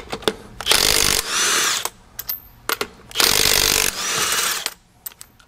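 An SP cordless mid-torque impact wrench hammers loose a fastener in two loud rattling bursts, with short clicks and gaps of quiet between them.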